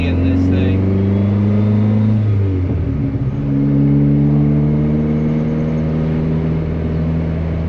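Budget turbo build car idling with a loud, steady engine drone, then the pitch dips and the engine rises again as it pulls away, with people talking over it.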